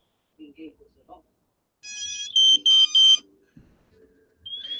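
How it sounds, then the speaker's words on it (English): A drone radio controller beeps in rapid clusters, ringing out clearly in the middle, a few quick tones, with faint voices murmuring before and after. "I got the radio beeping"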